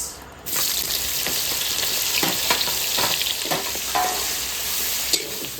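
Onions sizzle loudly in hot mustard oil in a wok that has just been used to fry meat, with a constant close crackle broken by scraping stirs.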